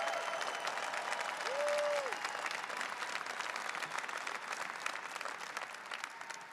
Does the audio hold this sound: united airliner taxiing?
no